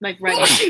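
A sneeze in a cluttered room, sharp and close, bursting out mid-clip with people talking around it.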